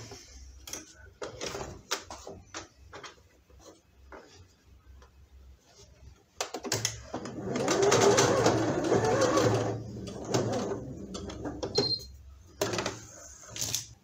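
A sewing machine stitches the fabric head of a soft baby comfort doll, with light mechanical ticking at first, then a louder steady run of several seconds, followed by a few shorter bursts.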